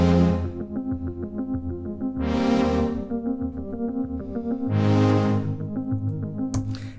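Sustained synthesizer chords layered with a rapid, ticking arpeggiator pattern, the swelling chords returning every couple of seconds over the steady pulsing notes, loud and up front.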